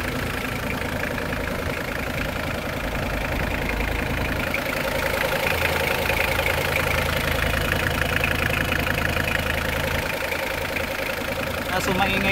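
An overhauled Mitsubishi Pajero 4D56 turbo diesel engine idles with a steady, even clatter at close range, and someone speaks over it at times.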